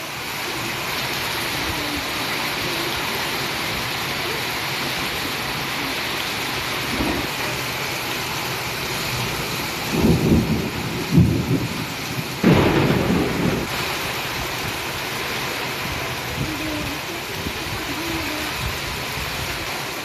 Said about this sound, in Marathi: भंडाऱ्यात अवकाळी पावसाचा तडाखा पाहायला मिळतो